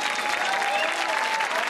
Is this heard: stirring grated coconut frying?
no